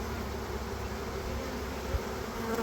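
A swarm of honey bees in a bucket gives off a steady, dense buzzing drone, close and continuous without pause.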